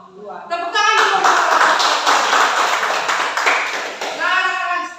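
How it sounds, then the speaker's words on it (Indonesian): A class of children clapping together in a classroom, a dense burst of hand claps holding steady for about four seconds, with a voice speaking briefly at the start and end. "Tepuk tangan dulu"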